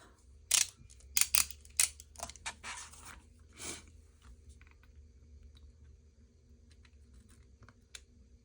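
A craft cutter slicing something off for a Beetlejuice Halloween album, a few sharp close snips and crisp paper crunches early on, then faint quiet handling.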